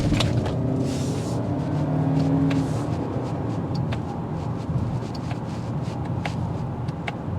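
A 2025 Toyota Camry SE Hybrid with sport-tuned suspension drives on a test run, heard from inside as a low steady road rumble and hum with occasional clicks and knocks, no speech.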